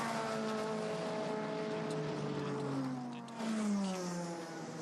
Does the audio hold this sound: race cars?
yes